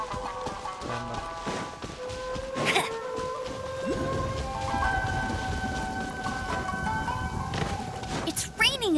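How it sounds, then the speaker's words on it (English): Rain falls steadily in the video game Genshin Impact, with a low rumble of thunder building beneath the patter, accompanied by game music tones and effects. "It's raining again."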